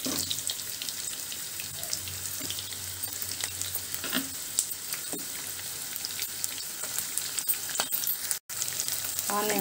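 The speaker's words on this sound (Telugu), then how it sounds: "ఆనియన్స్ కొద్దిగా వేయించుకుందామండి." Large cut pieces of onion frying in hot oil, a dense, steady sizzle close up with occasional scrapes and clicks of a spoon in the pan, running without pause.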